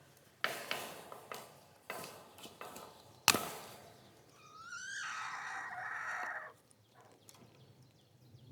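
A homestead rooster crows once, a drawn-out call, after several sharp knocks and clatter from fence work in a chicken run; the crow is moderately near and stands alone with no talking.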